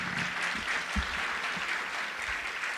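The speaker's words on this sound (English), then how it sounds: "Our volunteers deserve a big round of applause." Steady applause from a gala audience celebrating volunteers at a community health organization's silver jubilee, a continuous, moderately distant clapping with no pauses.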